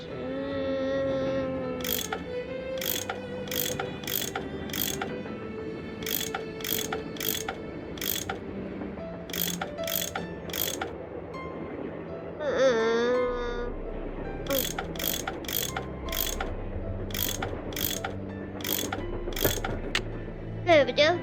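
Screws being turned in the Last Train to Blue Moon Canyon video game, a steady series of sharp, evenly spaced ratcheting clicks in bursts over game music, with a brief whooshing sweep in the middle.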